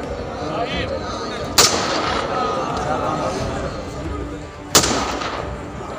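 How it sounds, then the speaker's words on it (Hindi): Two sharp gunshots from a state-honours gun salute ring out a few seconds apart, loud and echoing, with a crowd murmuring throughout. "पीछे वाले जवानों ने गोलियां चलाकर प्लेबैक दे दिया"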